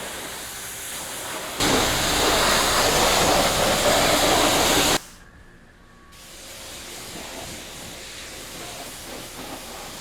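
Pressurized water spray rinsing foam soap off a car, a loud steady hiss that starts abruptly, runs for a few seconds, then cuts out and returns more softly.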